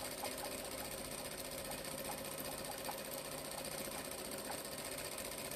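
Sewing machine stitching down one side of a tote bag made from jelly roll fabric strips, a steady fast continuous whir with fine rhythmic needle clatter, close and even throughout, with no talking.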